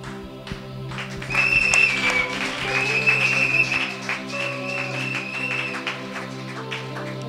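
A congregation at a church ordination service applauds, a swell of clapping that builds and then tapers off while sustained musical tones ring underneath.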